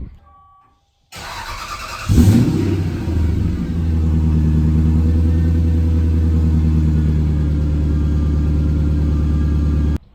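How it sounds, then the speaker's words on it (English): A 1998 Lexus GS 400 with a modified exhaust cranks and fires up, then settles into a deep, throaty rumbling idle that holds steady and loud until it cuts off. "I modified the exhaust on this car, as you can hear it in the startup."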